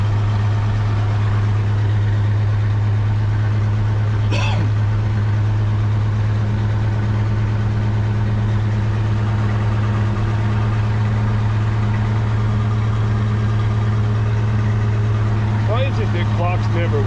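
An old Chevy truck idles steadily after a slightly flooded cold start, its low, even engine drone running loud and close throughout, with a couple of brief clanks and someone talking quietly over it.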